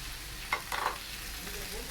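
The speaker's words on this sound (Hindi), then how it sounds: "हमने इसको हल्का सा फ्राई कर लिया" Small chicken cubes frying with softened onion in a pan give a continuous moderate sizzle, with a few brief stirring clatters early on and no speech.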